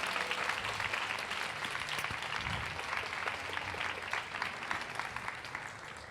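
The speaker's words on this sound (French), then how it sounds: "S'il vous plaît, on fait un tonnerre d'applaudissements." An audience at a women entrepreneurs summit in Dubai claps in dense, sustained applause that holds evenly for several seconds at a moderate distance, with no voices rising above it.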